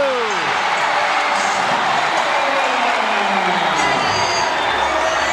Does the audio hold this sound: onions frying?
no